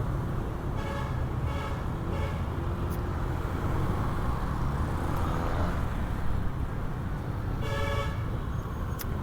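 Large truck amid busy city traffic in Metro Manila: a constant engine and road rumble with several short horn toots scattered through, no talking.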